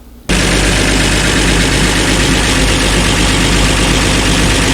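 An old engine with bad piston rings catches abruptly and runs at a loud, rough, steady idle close by. No one talks.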